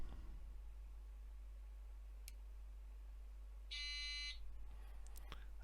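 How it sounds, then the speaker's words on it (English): A radio altitude warning buzzer in a flight simulator panel sounds one short, bright electronic burst lasting about half a second against a quiet hum, with faint clicks before and after. "when I get below the warning height, you'll hear the buzzer sound"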